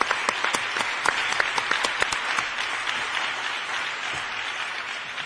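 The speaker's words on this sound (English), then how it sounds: "Mike deserves a huge round of applause." A room of people applauding on a panel's behalf, steady dense clapping that carries on throughout and slowly eases off toward the end.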